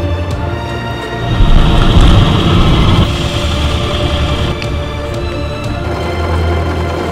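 A rail trolley running on an extreme mountain track gives a continuous low engine rumble with clattering and rattling, swelling louder for a couple of seconds before settling into a steady drone.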